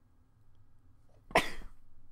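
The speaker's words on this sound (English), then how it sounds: "I'm gonna sneeze." A single sharp, explosive burst like a sneeze or cough rises suddenly out of a quiet room hum, loud and close, then trails off.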